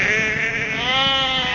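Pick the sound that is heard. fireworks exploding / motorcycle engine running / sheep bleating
sheep bleating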